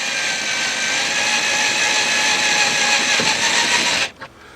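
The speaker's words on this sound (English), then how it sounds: "you shouldn't be drilling all the way through anyway" An electric drill bores out the rivets of a rear window regulator on a Mercedes-Benz E320, a loud, steady whine close up for about four seconds before it cuts off abruptly.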